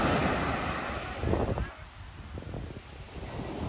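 Pacific Ocean surf washes in at Carbon Beach in South Malibu, California: a loud, continuous roar of breaking waves with rising and falling surges, heavy wind buffeting the microphone, and no clear talking.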